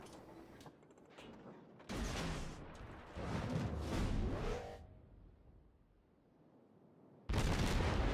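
Naval guns of the Tier 7 Japanese destroyer Hatsuharu in World of Warships firing at the Tier 5 Minakaze, heard as several loud blasts with rumbling trails and quieter stretches between.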